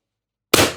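A single sharp, loud shot from a Pistelle X-68 Punisher airsoft gun fired over a chronograph, with a sudden crack followed by a short decaying burst of noise after silence.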